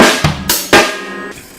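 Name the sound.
drum kit beat: hi-hat, snare, bass drum pattern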